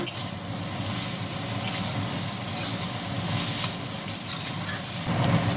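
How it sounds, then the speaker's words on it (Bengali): Chowmein noodles tipped into a hot pan and stirred for achar chowmein, giving a steady close sizzle with scraping stir strokes throughout and no talking. "এবার চাউমিনটা ঢেলে দেবো। এটা একটু নাড়া দেবো।"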